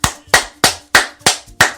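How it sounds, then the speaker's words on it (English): Six sharp, evenly spaced slaps ring out alone in quick succession, loud and close, each with a bright, punchy smack. "Can I get booty clapping sounds?"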